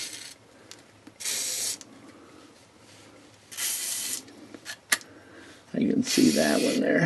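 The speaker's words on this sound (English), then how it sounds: "So I'm going to spray these with some WD-40." Several short hissing bursts of WD-40 aerosol spray on a car crossmember, a few seconds apart, with faint rustling and handling noises between them.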